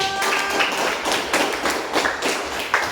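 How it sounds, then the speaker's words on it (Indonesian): A classroom of students claps for a classmate, a dense, irregular patter of many hands from nearby, with a few sharper taps and a brief tone at the start. "Kasih tepuk tangan dong."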